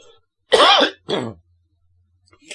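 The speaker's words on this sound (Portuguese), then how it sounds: "desculpa aí pela tosse" Two quick, harsh coughs close to the mic, the first louder, followed by quiet.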